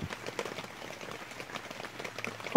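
Rain falling on a yurt roof and skylight during a storm, a dense steady patter of drops close overhead with a louder hit at the very end.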